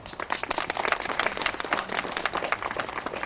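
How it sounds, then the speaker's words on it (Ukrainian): Applause at an outdoor charity fair, a modest crowd clapping steadily with dense, irregular hand claps at moderate volume throughout, no talking over it. "Андрій Михно, оплески."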